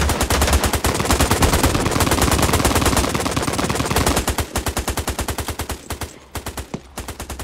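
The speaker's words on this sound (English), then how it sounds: "Heavy machine gun. On the rock wall." Heavy machine gun fire in Hell Let Loose, a long, loud, rapid, evenly spaced stream of close shots that breaks into shorter bursts near the end, with no talking over it.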